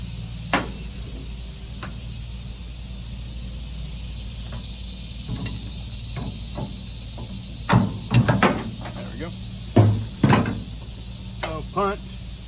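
A punch and pry bar knock the shear bolt out of a brush hog, giving a few sharp metallic strikes early on and then a tighter cluster of clanks near the end over a steady low background hum.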